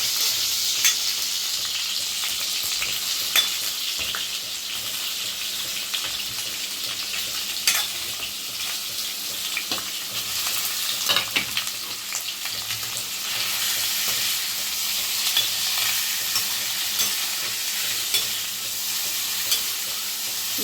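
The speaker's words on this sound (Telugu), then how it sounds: "పన్నీర్ ముక్కలు చిన్నగా వేసుకొని వీటి లైట్గా ఫ్రై చేసుకుందాం" Small paneer pieces sizzle lightly in hot ghee, a continuous bright hiss with occasional faint stirring knocks, steady and close for the whole stretch.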